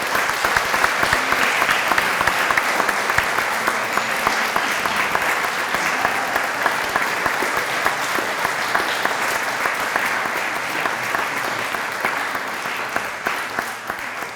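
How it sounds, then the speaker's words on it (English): A large crowd at a university ceremony honoring a national-champion swimming and diving team gives the coaching staff a long, steady round of applause, loud and dense from start to finish, tapering slightly at the end. "Can we just give the coaching staff a round of applause?"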